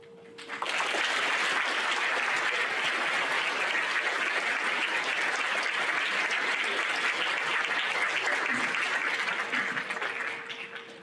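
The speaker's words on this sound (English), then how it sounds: "Please give our guests one more round of applause." Sustained applause from an audience at a high school Veterans Day assembly honoring veteran guests, a dense, steady wash of clapping that swells in, holds evenly for about ten seconds, then tapers off.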